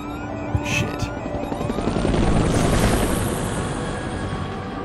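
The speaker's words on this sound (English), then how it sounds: "It looks like it's gonna be some helicopter action." Helicopter in the video game Fear 3, a steady, close, broadband rotor-and-engine roar that swells slightly midway and holds, preceded by a couple of short mechanical clicks.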